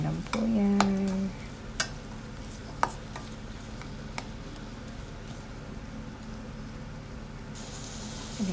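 Chili and minced garlic stirred in a frying pan, with soft scraping strokes and a few sharp utensil taps over a low, steady sizzle, close by.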